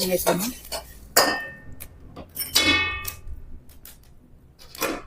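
Sharp, irregular crackles and pops of spices and mace dry roasting in a hot kadhai for Maharashtrian kala masala, with occasional metallic clinks, close up and fairly loud.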